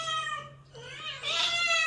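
A cat meows nearby in a home, giving a drawn-out, tonal cry that dips briefly and then rises into a louder second call, with no talk over it.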